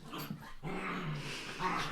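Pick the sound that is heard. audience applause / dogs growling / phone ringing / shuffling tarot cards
dogs growling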